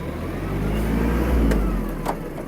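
A Kubota KL-230 mini tractor pulls away in second gear, its diesel engine droning loud and close with a low steady rumble that swells briefly, along with a few light mechanical knocks.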